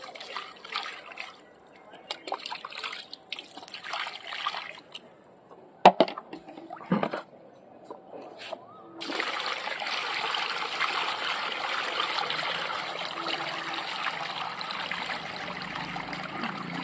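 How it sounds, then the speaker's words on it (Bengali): Water poured into a lotus tub in a rooftop garden, first intermittent splashes and trickles, then a steady loud stream running continuously near the microphone for the last several seconds. "এরপরে জল দিতে হবে।"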